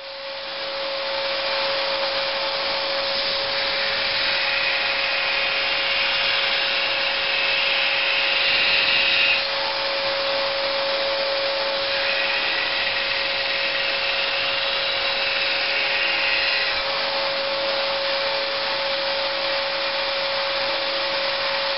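A grinder runs steadily on a handmade knife blade, a continuous loud abrasive whir lasting the whole stretch with slight shifts in pitch as the blade is worked, no voices.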